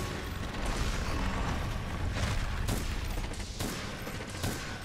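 Heavy bowgun in Monster Hunter World firing pierce ammo against an Uragaan, a dense, sustained barrage of booming shots with sharp bursts around two and a half and three and a half seconds, loud and continuous with no talking.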